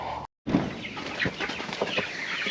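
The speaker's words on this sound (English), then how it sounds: "There's 350 birds in here. They'll be here 2 more weeks, and then we'll be done with meat chickens for the year." Several hundred meat chickens cluck inside a large schooner coop, a close, busy chorus of overlapping clucks and short calls after a brief dropout at the start, with no talking.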